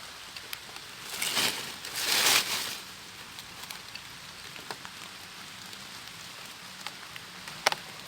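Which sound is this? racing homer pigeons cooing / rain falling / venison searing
rain falling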